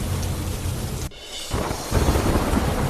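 Heavy rain pouring in Dwarka, a dense continuous hiss with a brief dip in the middle before the downpour resumes at full strength.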